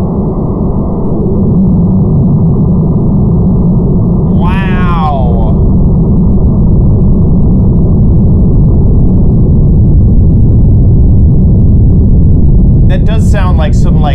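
A huge explosion played back in slow motion, stretched into a loud, deep, sustained roar that fills the whole stretch, with two brief squeaky warbling sweeps over the top.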